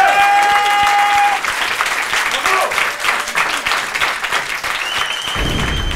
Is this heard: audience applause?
yes